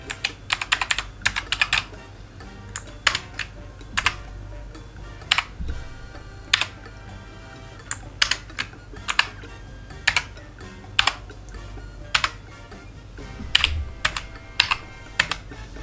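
Typing on the keys of a Signo KB-770 waterproof RGB mechanical keyboard: sharp, close key clicks in irregular bursts and single taps with pauses between them, alone without talk.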